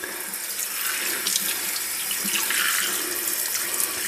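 Cold water runs steadily from a kitchen tap into a sink while rinsing trout before freezing, a continuous close splashing hiss with no talking.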